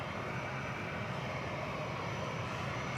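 An airliner approaches the DFW Airport runway, heard as a steady, broad engine roar that stays even throughout, distant and moderately loud, with no voices.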